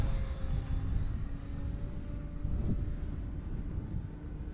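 FMS CJ-6 V2 radio-controlled model airplane flying in wind, a faint, steady engine drone mixed with heavy low wind rumble, distant and continuous.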